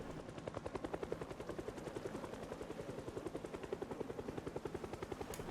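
A helicopter's rotor thumps in a steady rapid pulse with a constant engine drone underneath, close and loud throughout without letup.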